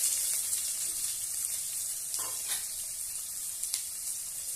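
Onions fry in two spoons of oil in a pan, giving a steady, even sizzle throughout, with a few soft stirring scrapes and no talking.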